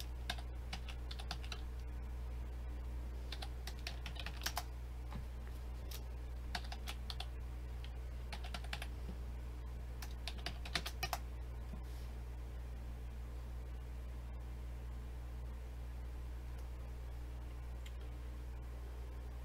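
Fingers tap out a password on a computer keyboard, scattered quiet key clicks in short bursts over a steady low hum, faint and close, with no talk.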